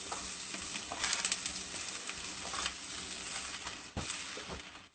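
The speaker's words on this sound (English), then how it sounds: "stir it really well" Onions sizzling in a pan while being stirred: a steady, fairly quiet frying hiss broken by scraping stir strokes and a sharp clack near the end, with no talking.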